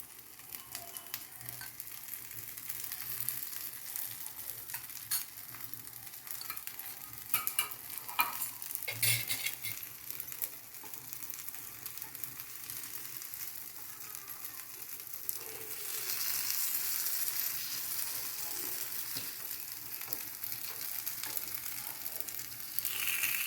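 Ghee sizzling around mango puran appe frying in an appe pan after flipping, a soft continuous crackle with occasional scraping, growing a little louder toward the end, no voices.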